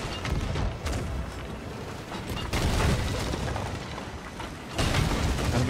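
Deep booming ship cannon blasts roll in a rough barrage over a rumbling video game soundscape during a naval battle, with heavier volleys surging near the middle and end.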